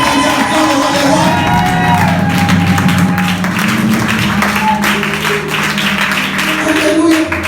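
A church congregation cheers and acclaims loudly, a dense crowd of whoops, shouts and applause that stays full and continuous throughout.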